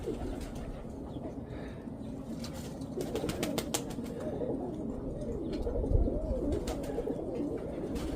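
Pigeons coo softly in low, rolling murmurs amid a busy outdoor background with occasional flutters and clicks.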